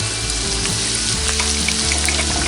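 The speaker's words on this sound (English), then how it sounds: "We're going to break our eggs right over top." Eggs hiss and crackle in a cast iron skillet over a camp cooking fire, a loud, steady sizzle of frying with no pauses and no voices.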